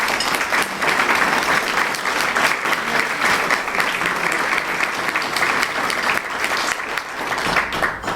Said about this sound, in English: all of you should deserve a round of applause for your great efforts